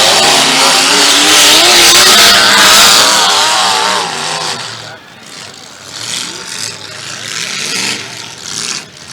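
Race cars roar around the track at Crossroads, loud engines rising and falling as they pass, with an announcer talking over the noise.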